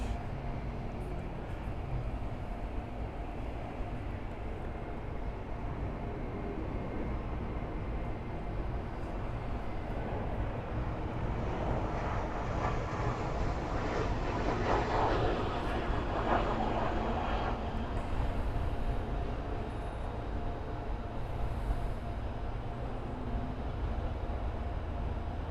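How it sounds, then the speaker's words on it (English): A Volaris airliner taxis toward the gate at Miami airport, a steady low engine rumble and whine that swells midway as it passes, then eases off, heard from a distance outdoors. "Obviously Volaris taxiing to the gate."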